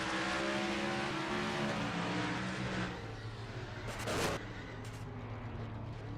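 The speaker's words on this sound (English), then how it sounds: "Now let's ride along with the 42 with Cal Weathers" A race car engine in a fictional Piston Cup race at a superspeedway, the 42 car, roars at steady high pitch and loud volume, with a sharp burst of noise around the middle, no talk.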